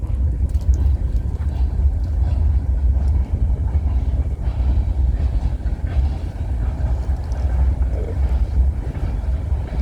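CN locomotives and train cars rumble past a trackside spot in Sarnia, Ontario, on a rainy Saturday night, making a steady, heavy low roar that continues throughout, with wind buffeting the microphone.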